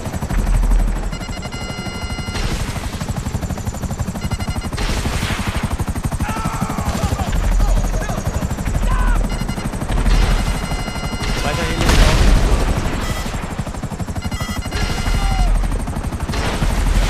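Helicopter rotor noise with bursts of gunfire and machine-gun fire in GTA Online, loud and continuous across the whole stretch, with heavy shots recurring every few seconds.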